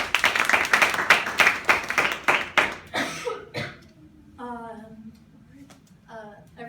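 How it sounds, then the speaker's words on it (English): An audience claps in applause after a speech introduction, a dense burst of hand claps for about three seconds that thins to a few scattered claps, followed by a person talking. "Let's give Sarah a round of applause."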